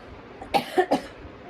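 A short burst of three quick coughs, close and fairly loud, against a quiet background.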